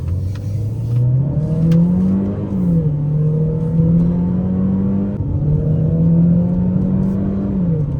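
Car engine revved hard during a drive, climbing loudly in pitch through the gears with brief drops at each shift, a close, continuous mechanical roar.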